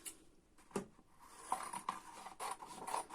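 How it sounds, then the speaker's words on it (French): Scissors or a blade cut through paper or card around an album structure, a series of close, quiet rasping snips in irregular bursts with no talking. "Donc là, il n'y a pas besoin, j'ai laissé déjà on est à environ, j'ai laissé 2 cm. Voilà, donc je vais découper"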